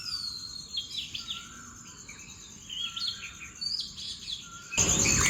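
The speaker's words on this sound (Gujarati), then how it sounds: "પણ બહાર અવાજ જુઓ કુદરતી પક્ષીઓનો." Birds chirp and warble outdoors in the early morning of a village, with repeated overlapping calls at moderate distance over a soft insect hum. A sudden louder rustling noise comes near the end.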